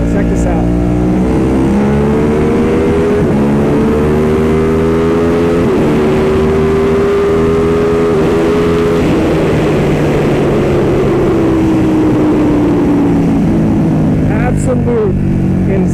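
A carbon-bodied Ducati Panigale at roughly 190 horsepower to the wheel, fitted with a lightweight chain and sprockets, revving very loud and close as it pulls through rising engine notes and gear shifts, with wind roar throughout.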